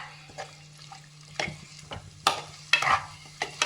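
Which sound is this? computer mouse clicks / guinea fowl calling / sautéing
sautéing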